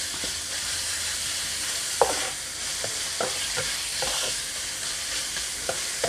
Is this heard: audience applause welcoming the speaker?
no